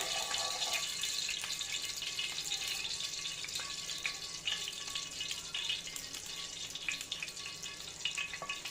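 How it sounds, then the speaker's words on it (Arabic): Ghee heats in a pan before bread goes in, a steady faint sizzle and crackle with a few small pops throughout, no one speaking. "استناها تسخن السمنه"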